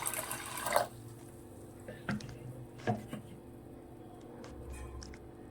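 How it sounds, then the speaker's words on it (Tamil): Water sloshes and swirls as lentils are washed in a pressure cooker, with a few wet squishing splashes and light dripping between quieter moments. "போட்டு நல்லா தண்ணி ஊற்றி கழுவிக்கலாம்"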